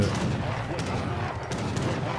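Dense battle noise from Age of Empires 3: a continuous roar of massed gunfire and cannon booms with scattered sharper shots, loud and unbroken throughout.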